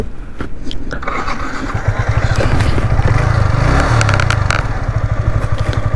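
Two Yamaha R15 V3 motorcycles, one BS4 and one BS6, rev loudly side by side at the start of a drag race, a dense continuous engine drone with sharp blips on top, close to the microphone.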